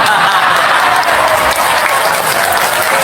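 A large crowd at an outdoor stage event in Morowali, with Anies Baswedan and Ustadz Das'ad Latif, breaks into loud, dense applause. The clapping continues unbroken throughout, close and full, with a faint voice briefly underneath.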